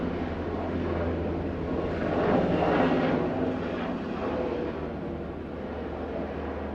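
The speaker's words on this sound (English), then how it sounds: "I don't know how loud that was for you, but it's a helicopter." A helicopter passes overhead with a broad, droning engine roar that swells to a peak midway and then slowly fades, heard indoors at moderate loudness.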